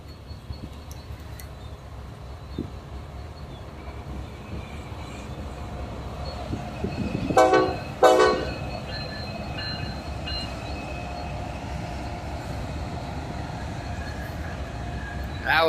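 A Norfolk Southern intermodal freight train led by engine 6983 arrives at Binghamton with a steady rail rumble, then a short loud horn burst near the middle and a brief bell tone at the end.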